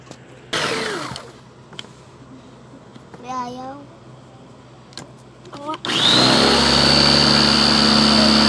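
A kitchen blender grinds fried, dried moringa (malunggay) leaves to make homemade moringa coffee, starting up loudly near the end with a steady, close motor whir after earlier quiet handling noises and brief voices.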